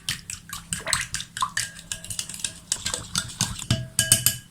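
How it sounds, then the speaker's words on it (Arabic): A whisk clicks and scrapes rapidly against a bowl while yogurt and cream are beaten together, producing a busy, wet, rhythmic clatter close by with no talking. "هقلبهم بالمضرب عشان يفكوا، عشان الزبادي والكريمة تفك، كله يمتزج مع بعض كده."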